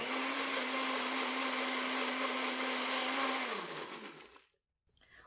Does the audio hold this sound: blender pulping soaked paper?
yes